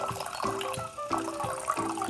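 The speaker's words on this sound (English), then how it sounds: "Now I'm going to pour 1 cup of cold water." One cup of cold water is poured into a bowl to make Jello: a close, continuous splashing trickle with gurgling, slightly rising tones.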